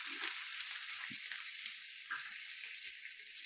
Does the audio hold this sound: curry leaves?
yes